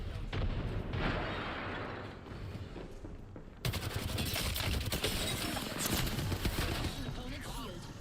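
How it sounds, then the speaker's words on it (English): A frag grenade tossed and detonating during a video game firefight, with a loud burst standing out amid continuous gunfire and effects, a voice talking over the action. "Frag out. Frag out. Tossing frag."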